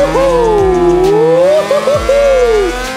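A motorcycle on a race track revs hard for a wheelie, its loud, close engine note sweeping up and down in pitch with brief dips as the throttle shifts.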